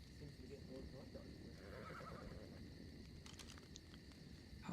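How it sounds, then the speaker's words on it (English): A horse whinnies briefly over a quiet outdoor background, with faint hoof sounds nearby. "Oh, horses."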